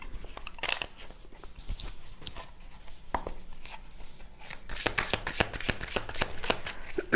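Tarot cards being shuffled by hand, bursts of crisp flapping and riffling that start sparse and grow denser and louder toward the end, close and with no voice.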